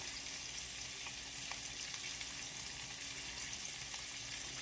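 Chicken drumsticks fry in a pan with a faint, steady sizzle, a soft even hiss with occasional tiny pops and no voices.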